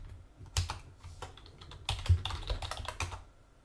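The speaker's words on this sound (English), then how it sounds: "I'm gonna type my username." Typing on a computer keyboard while entering a username; quiet, irregular bursts of key clicks and taps close by, with short pauses between groups of keystrokes and no talking.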